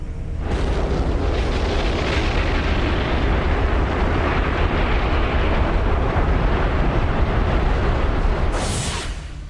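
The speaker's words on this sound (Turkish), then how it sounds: "Piper Alpha video kaydında görüldüğü gibi ikinci bir patlamayla sarsıldı." A massive, continuous roaring explosion on the Piper Alpha offshore oil platform in the North Sea, with heavy low rumble, steady and loud for several seconds before easing off at the very end.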